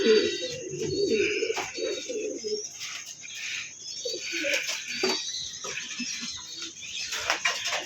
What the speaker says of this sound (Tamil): இந்த மாதிரி நல்ல குவாலிட்டியான புறாக்களை எடுத்து பண்ணலாம்